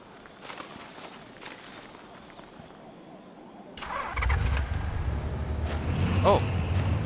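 A car engine cranks and catches in a Crysis survival mod game, following quiet footsteps; the engine then settles into a louder steady running rumble.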